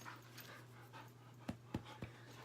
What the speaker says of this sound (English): What are you doing, you big old slobber dog?